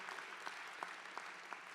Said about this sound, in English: So let's give a round of applause to the folks leading.